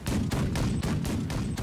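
Minigun cannons firing in the video game The Last Leviathan, a loud, dense stream of rapid shots in steady bursts, with a few brief dips between volleys and no talk.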